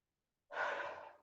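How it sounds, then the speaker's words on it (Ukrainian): A single deep breath is drawn in and let out during a children's morning exercise routine. It comes as one soft, close, airy whoosh after a short silence, with no speech. "Давайте 5 глибоких вдохів і видохів"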